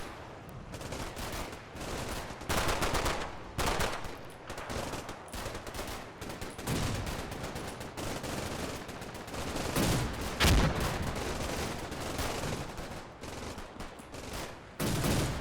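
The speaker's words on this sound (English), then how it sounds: "MG fire keeping us pinned out here in the open" Sustained machine gun fire in a WWII video game battle at Verrières Ridge, dense rapid bursts and crackling shots continuing throughout at moderate distance with no talk.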